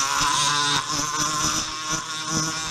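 Rotary tool spinning a rough burr against the exhaust port of a Husqvarna 288XP chainsaw cylinder, a steady high-pitched whine with a grinding edge that wavers slightly as the bit bears on the metal, close and continuous.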